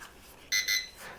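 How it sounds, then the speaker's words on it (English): A JJRC H78G GPS drone gives two short, bright electronic beeps in quick succession during compass calibration. The beeps are close and clear over faint background hiss. "Now point the camera down or up, anything you want, and spin it again. Wait for another beep."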